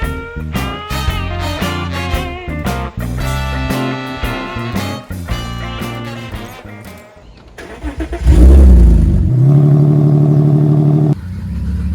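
V8 Volkswagen Touareg engine catching after a jump start, cranking then settling into a loud, steady idle with a deep low rumble close by, after a stretch of other noisy sound.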